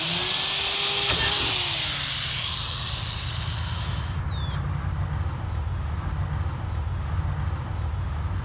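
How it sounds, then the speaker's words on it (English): A power drill whines loudly at first, then its pitch drops and it fades into a steady low grinding hum as it bites through a fiberglass van roof. "we're gonna start by drilling out the four corners that I've marked"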